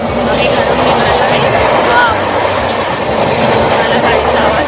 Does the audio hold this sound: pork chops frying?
no